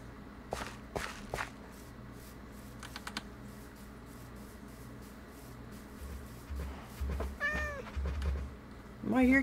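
Cat meows from the game Minecraft, played with mods, rising as several short tonal calls near the end, after quiet keyboard typing and clicks with faint background noise.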